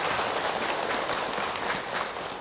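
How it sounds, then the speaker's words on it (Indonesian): An audience at an Islamic lecture applauding fathers, a dense, steady wash of clapping from many hands, loud and sustained throughout with no voices over it. "Tepuk tangan buat para ayah yang luar biasa dalam kehidupan."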